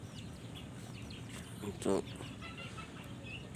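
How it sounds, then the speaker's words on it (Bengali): Farm breed chickens cluck in a yard over a steady bed of background noise, with one brief louder call standing out near the middle; a person speaks briefly. "এটা একটা ফার্ম জাতি মুরগি।"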